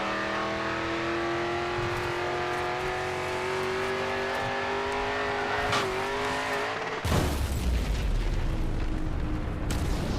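A race car's engine drones steadily in GRID 2, then a sudden loud crash bursts in, followed by a harsh noisy rumble of the wreck that lasts several seconds.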